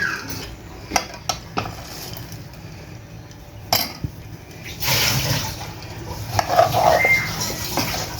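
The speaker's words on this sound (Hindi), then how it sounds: "इसको अच्छी तरह हमने मिक्स कर लेना है चाश में।" Boondi and chopped dry fruit being mixed into sugar syrup, with a few sharp spoon clinks against a metal pan followed by soft, wet stirring and scraping sounds that grow louder.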